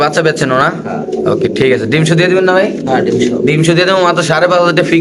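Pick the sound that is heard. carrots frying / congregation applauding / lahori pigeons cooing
lahori pigeons cooing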